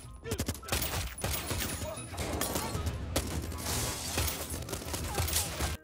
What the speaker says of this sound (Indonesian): Banyak anak buah Pitbull ditembak mati.